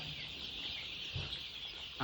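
Fifteen-day-old poultry farm chickens keep up a continuous, soft mass of chirping and clucking from a crowded flock, with no talking.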